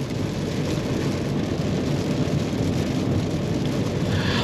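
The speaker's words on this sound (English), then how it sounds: "I apologize if there's some rain noise" Steady rain drumming on a 2023 Ford Bronco Sport Outer Banks 1.5L SUV as it drives, a constant dense hiss with road noise beneath, no talking.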